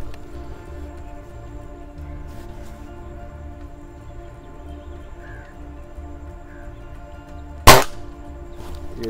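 A single sharp report from a Cometa Fusion Galaxy air rifle firing a Pro Magnum pellet, near and loud, rising over a steady low background hum.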